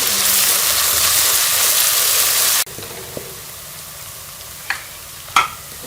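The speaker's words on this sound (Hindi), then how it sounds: "अब इसमें हम ये लहसुन अदरक का पेस्ट भी शामिल कर लेंगे और इसे भी 1 मिनट के लिए प्याज के साथ अच्छी तरह से भून लेंगे।" Loud, steady sizzling of garlic-ginger paste frying with onions in a pan, which suddenly drops to a softer crackle with occasional scrapes and clinks of stirring.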